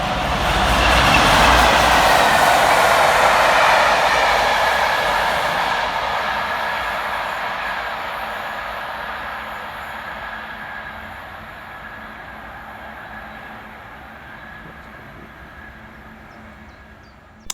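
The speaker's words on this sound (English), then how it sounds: "Working rather strangely on the fast line is 47-245 and 47-802, working 5M42 from Carnforth Steamtown through to Southall" A pair of Class 47 diesel locomotives, 47-245 and 47-802, roar through Lichfield Trent Valley station on the fast line, loud and close at first, then fading steadily into the distance.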